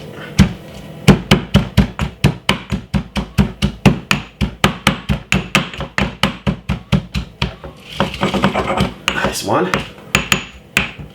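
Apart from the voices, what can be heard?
crushing thyme and spring onion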